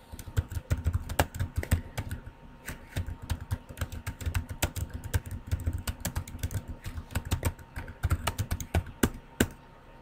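Steady, rapid typing on a computer keyboard, with irregular bursts of close, crisp key clicks running the whole time and no talking.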